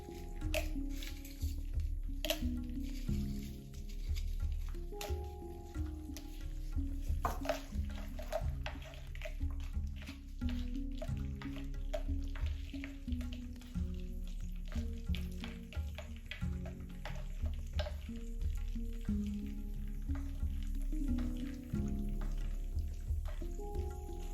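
Green chilies sizzle in hot desi ghee in a pan, a steady crackling fry with scattered pops and spits that continues throughout, close and moderately loud with no talking.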